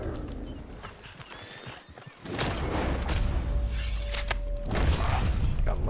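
A horse in Red Dead Redemption 2 gallops with loud, steady hoofbeats and lets out a neigh, the running growing louder and busier partway through over outdoor ambience.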